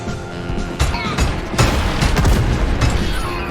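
Heavy explosive booms and crashing blasts from Grendizer's Anti-gravity storm attack in a UFO Robot Grendizer video game, loud and dense, with strong hits near 0.8 and 1.6 seconds followed by sustained rumbling impacts.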